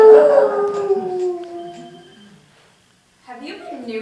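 A human voice imitates a dog's howl: one long, loud wail slides down in pitch and fades to silence, followed by a short burst of quieter yelping howls.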